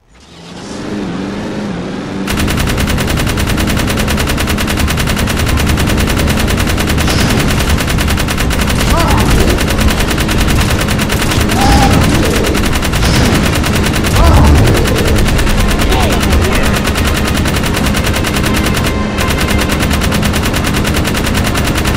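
Machine gun fire from a vehicle turret in the game Jak 3: loud, continuous rapid bursts over a roaring engine, with a brief character voice in the middle of the dense, sustained barrage.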